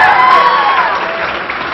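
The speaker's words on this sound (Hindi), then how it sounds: "इनके लिए भी आप एक बार तालियां बजाएंगे।" An audience at a study-tips talk claps for a student, a loud, dense burst of applause with some crowd noise that tapers slightly toward the end.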